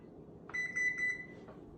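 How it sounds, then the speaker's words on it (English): A kitchen timer gives a single steady electronic beep lasting about a second, clear and close over quiet kitchen background while crab cakes are prepared. "I'm going to set my timer for 10 minutes"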